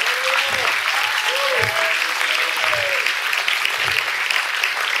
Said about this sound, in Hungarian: adjunk az Úrnak egy nagy tapsot!